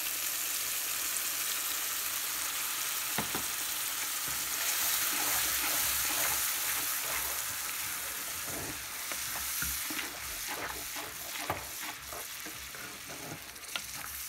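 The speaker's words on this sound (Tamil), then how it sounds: "now I'm adding the ground masala to it" Ground masala sizzles and fries in a clay pot for a fish curry, a steady hiss with occasional stirring scrapes throughout, close and continuous with no talking.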